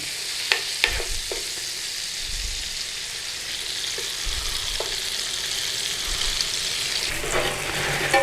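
Black pudding slices frying in a pan with bacon and sausage fat from a full English breakfast, a steady sizzle with a few scrapes and clinks of the utensil, close and moderately loud throughout.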